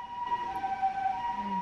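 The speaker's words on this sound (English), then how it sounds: "Sirens." A siren wails steadily through the whole short stretch, its tone held fairly even and moderately loud, with no voices over it.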